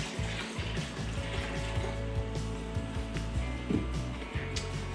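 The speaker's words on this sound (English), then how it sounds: "I'll tip this away into my waste bucket" Leftover cleaning solution is tipped from the reservoir of a Brasilia Festa fresh milk module into a waste bucket, a continuous splashing pour of liquid over low background rumble.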